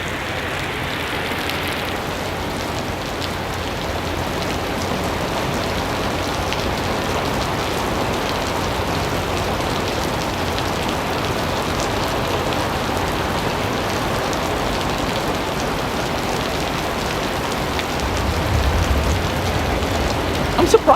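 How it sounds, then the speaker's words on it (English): Heavy thunderstorm rain pours down in Aventura, Florida as a dense, unbroken hiss of water on surfaces that holds steady throughout, swelling slightly louder near the end. "it's raining so hard that the sky is almost completely obscured"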